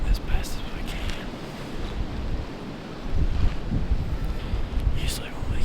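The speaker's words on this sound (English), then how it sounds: "the wind sucks and I wish it was dead calm" Cold wind gusts across a mountainside during a deer hunt, buffeting the microphone in rough, uneven roaring bursts that rise and fall, with a person talking over it.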